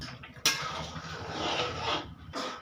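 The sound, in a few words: opening the lid of the pot of paneer pulao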